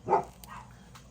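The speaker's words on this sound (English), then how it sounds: "Yep, the dogs are outside." A dog outside gives a single sharp bark, followed by faint, muffled whimpering sounds in a quiet space.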